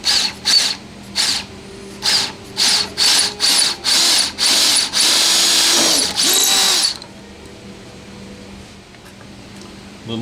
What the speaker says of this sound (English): I think if I drill right about there, that should do it.